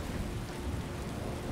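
Steady rain hisses softly in Skyrim, a continuous even wash of falling water with a low rumbling undertone, faint and unbroken.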